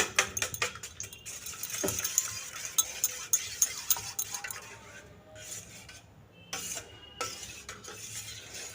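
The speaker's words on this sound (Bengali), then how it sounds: "চারটে ডিম নিয়ে ওতে নুন দিয়ে দিয়েছি পরিমাণ মতো দিয়ে এটাকে ভালো করে আমি একটু মিশিয়ে নেব" Four eggs with salt are beaten in a bowl with a utensil, giving quick rhythmic clinks and tapping strokes up close, then a brief pause before a few more taps.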